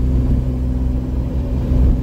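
A restored Alpine GT car on the road, heard from inside as a steady low engine rumble and road drone, loud and continuous with no speech.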